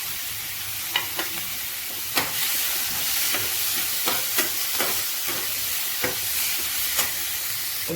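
Beetroot and carrot cook in a pan for masala dosa filling, giving a constant sizzling hiss punctuated by repeated sharp scrapes and taps of stirring at irregular intervals.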